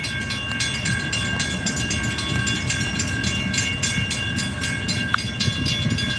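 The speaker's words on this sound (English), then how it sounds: "It looks like a train" A train rolls past trackside during live railfanning downriver, a steady broad rumble with faint rhythmic clatter, one brief squeal or horn-like tone near the end; no talking.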